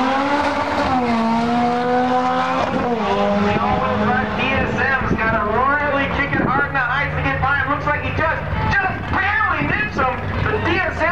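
Turbocharged Dodge Caravan minivan racing at speed, its engine climbing through gears in rising and falling sweeps, loud and continuous throughout with a brief shift break early on.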